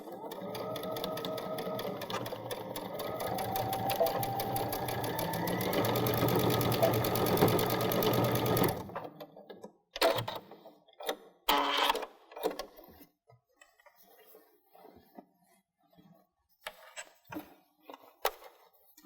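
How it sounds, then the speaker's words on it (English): A sewing machine stitches down a drawstring backpack strap in a loud, continuous close-up whir for about nine seconds. Scattered clicks and handling sounds follow as the machine stops. "So we're going to stitch all the way down and then go over it a couple of times."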